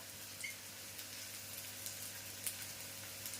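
Onions fry in a pan with a faint, steady sizzle and a few soft pops, heard alone without talk.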